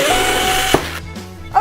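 A cordless power drill whirs briefly at close range, then stops with a click. A short second burst follows near the end, with no talking.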